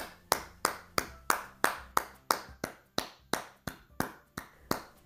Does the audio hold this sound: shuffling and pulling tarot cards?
no